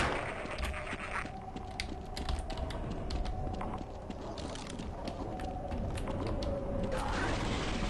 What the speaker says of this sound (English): Little elevator here.